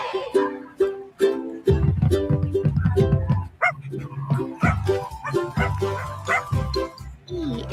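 A dog barks and yips repeatedly in a children's song about a boy dancing with a dog and a loud drum, the sharp barks riding over bouncy music with drum beats throughout.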